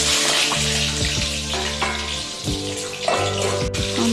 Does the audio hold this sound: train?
no